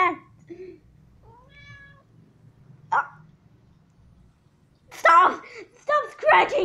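A pet cat gives several short, thin meows spaced apart over quiet room tone, followed by someone talking close by.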